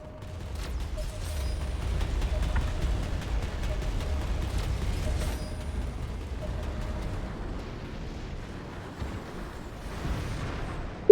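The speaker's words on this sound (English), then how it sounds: "the crackling of gunfire, and the roar of engines growing louder by the second" Rumbling Planetside 2 battle din on Amerish with scattered gunfire crackle, booming blasts and roaring vehicle engines, a steady low roar throughout and a sharp loud hit at the very end.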